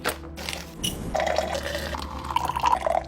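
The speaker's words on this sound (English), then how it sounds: "pour yourself a hot cup of coffee" Hot coffee pours steadily into a cup, a bright trickling fill rising in pitch toward the end, with faint kitchen clatter at the start.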